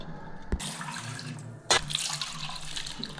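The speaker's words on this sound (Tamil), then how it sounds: "தேவையான அளவு தண்ணி ஊற்றிக்கலாம்" Water is poured into a pot of Nagercoil-style fish curry, a steady splashing stream with a sharp knock near the start and a louder splash partway through.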